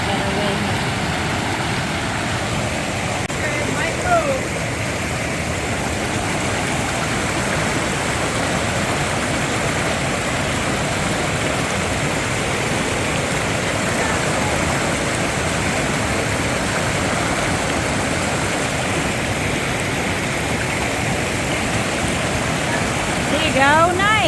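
A raging river rushes loudly along a forested stretch of the Pacific Crest Trail. The roar of water is constant and broadband, filling the whole stretch without a break.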